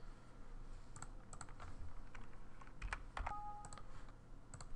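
Keys on a computer keyboard are typed in a quick, uneven run of soft clicks close by. A short cluster of taps comes near the end, over a faint background hiss.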